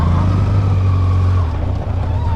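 A Kawasaki Z900 motorcycle rides along a monsoon mountain road, its engine a steady, loud, close drone with a low harmonic hum that holds through the clip before slightly shifting near the end.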